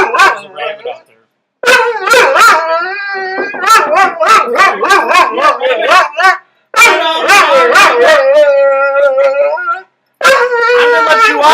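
A dog howls, yips and barks loudly and close by in long, repeated bursts separated by short pauses, with whimpering howls rising and falling through the sequence.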